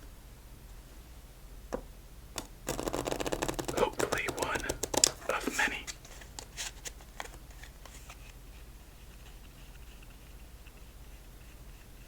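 A quick riffle of cards being shuffled, a crisp papery burst lasting a few seconds, with a short soft spoken phrase nearby.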